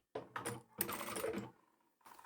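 Sewing machine stitching a reusable foldable shopping bag from the top fold edge with backstitching, heard as short close bursts of fast mechanical stitching separated by brief pauses.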